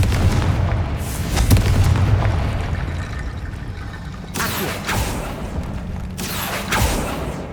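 Bombarda spell explosions in Hogwarts Legacy, a deep rumbling boom followed by two sharp blasts with rumbling tails, loud and close with no voices.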